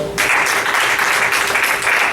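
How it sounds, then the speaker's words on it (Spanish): A church congregation breaks into loud, dense applause during a sermon, a sudden full wash of clapping that holds steady throughout. "Así que denle un aplauso a Jesucristo."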